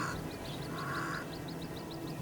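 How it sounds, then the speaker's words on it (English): A crow caws near a waterhole in the burning heat of southern Africa, where a thirsty leopard drinks. A couple of harsh calls come over a steady outdoor hiss and a rapid chirping of insects or birds. "And it's not the crow's cry that will scare it away."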